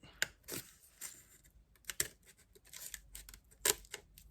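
Scissors cutting out paper for a personalised letterbox craft, giving a series of quiet, crisp snips at an irregular pace with short pauses between cuts, close and alone with no talking.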